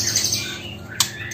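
A magpie robin chirps in quick, bright bursts over a noisy background, with a sharp louder note near the end.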